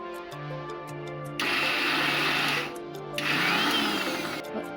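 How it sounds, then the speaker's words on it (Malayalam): A mixer grinder pulses green chilli, raw mango, ginger and curry leaves in its jar, with two loud, close bursts of whirring motor noise separated by a brief pause, alone without talk. "ഫസ്റ്റ് പച്ചമുളക്, പച്ചമാങ്ങ, ഇഞ്ചി, കറിവേപ്പില എന്നിവ ഒരു മിക്സിയുടെ ജാറിലിട്ടൊന്ന് പൾസ് ചെയ്തെടുക്കാം"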